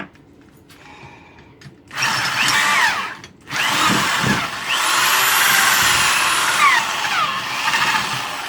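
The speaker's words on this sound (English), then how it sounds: "so now we got our hole drilled" A power drill bores a hole in a metal bracket for a fuel regulator, with a faint motor hum first, then two loud, close bursts of high-pitched drilling and grinding that whine and shift in pitch.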